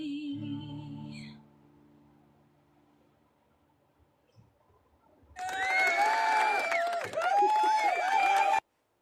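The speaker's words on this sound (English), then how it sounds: "You like my applause?" A recorded applause sound effect played by a DJ bursts in loudly after a quiet stretch, dense clapping and cheering mixed with music tones, then cuts off abruptly.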